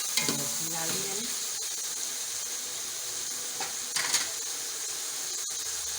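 Green chillies hit hot oil in a pan of homemade curry leaf pulao, giving a continuous loud sizzle with bursts of frying crackle and a few clattering stirs, no voices.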